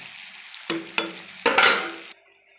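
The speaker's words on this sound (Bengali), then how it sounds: "পেঁয়াজটা আমার লাল লাল ভাজা হয়ে গেছে" Onions sizzle in hot oil for a mutton and potato curry, a steady fry broken by a few sharp stirring scrapes and one louder burst before the sizzle drops back.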